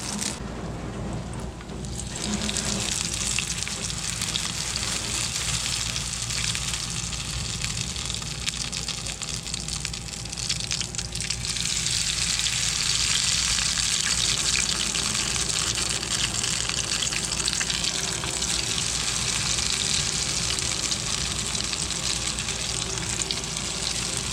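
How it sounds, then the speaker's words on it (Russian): Loud, continuous sizzling and crackling of fish frying in a hot pan, up close and steady throughout. "Берете рыбку, опускаете ее в водичку и потом ложите на сковородку."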